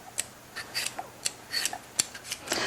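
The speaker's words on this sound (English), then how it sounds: "Use my peeler to peel my sweet potato." A peeler scrapes along a sweet potato in short, repeated rasping strokes, crisp and close, about nine uneven scrapes with no talking.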